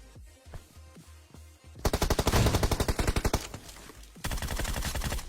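Rapid automatic gunfire from a PUBG Mobile match, heavy bursts of shots in quick rhythmic strings, loud and close, with quieter scattered shots before the main volleys and no talking.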